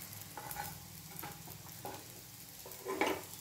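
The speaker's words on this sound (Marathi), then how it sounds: "बारीक गॅसवरच या वड्या परतून घ्यायच्या आहेत" Gram-flour and green pea vadis shallow-fry in hot oil over a low flame, giving a steady close sizzle with soft bubbling pops that swell briefly near the end.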